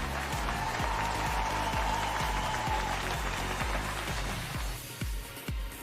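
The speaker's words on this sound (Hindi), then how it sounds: "आप जहां भी हैं, इनके लिए जोरदार तालियां बजाइए।" An audience claps loudly and steadily at an event honouring youth success, the applause running alongside a regular, pounding bass beat of music before easing toward the end.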